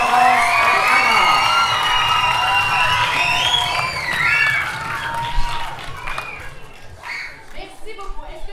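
An audience at an improvisation show applauds and cheers as performers walk on stage, with shouts and whoops over the clapping, which thins out toward the end while voices carry on.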